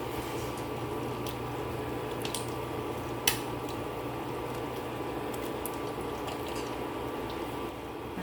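Sinigang broth with tomato, ginger and onion simmering in a pot, a low continuous bubbling with faint clinks and one sharp tap partway through, no voices.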